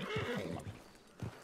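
A horse neighs in a Red Dead roleplay game near a Blackwater ranch, one loud descending whinny followed by a shorter snort-like call about a second later, with no talk over it.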